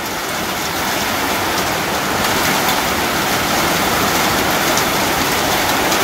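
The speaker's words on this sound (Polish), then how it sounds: "No i leje jak z cebra" Heavy downpour falls in a garden, a dense, loud, steady hiss of rain on surfaces with no break throughout.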